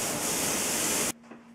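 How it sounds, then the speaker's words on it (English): An AlbaGrip sprayer gun blasts water to clean itself, a loud steady hiss for about a second that cuts off abruptly into quiet. "Shake it around a little bit, give it a little spray, and the gun is cleaned and ready to go."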